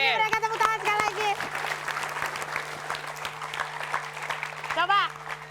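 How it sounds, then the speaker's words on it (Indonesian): Studio audience clapping on an Indonesian comedy show, a sustained patter mixed with a voice speaking and laughing over it, with a steady low electrical hum throughout. "itulah tadi mereka tepuk tangan sekali lagi"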